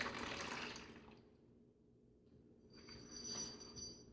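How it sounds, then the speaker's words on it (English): Water runs and splashes into a bowl, swirling and rinsing strawberry seeds, briefly easing off before pouring again, close and fairly soft. "you want to rinse this out one time to get all the remaining seeds out of here"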